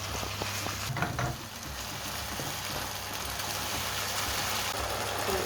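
Beef and onions fry in olive oil in a sauté pan, giving a steady, dense sizzle with a low hum running underneath throughout.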